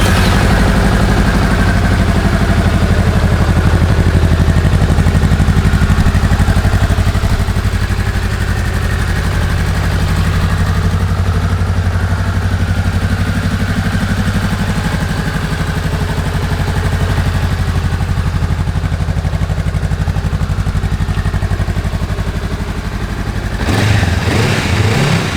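A 2017 Honda Rebel 500 motorcycle engine runs at a steady, loud, close idle throughout with an even rumble, then shifts briefly right at the end.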